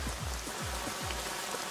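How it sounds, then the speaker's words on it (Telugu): Steady rain falling on surfaces outside a shop, a soft continuous patter with scattered drips, fairly faint and with no voices. "ఓ పక్క వర్షం పడుతుంటే"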